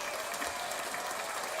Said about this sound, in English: round of applause for you for showing up